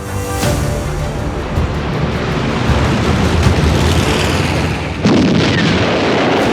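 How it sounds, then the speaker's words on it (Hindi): Missile explosions roar in a loud, sustained, rumbling barrage, with a sharp blast early on and another heavy boom near the end, thundering close and dense throughout. "सिटी से निकली ये मिसाइलें जब दुश्मन के इलाके में गिरती हैं तो कैसा तांडव मचाती हैं"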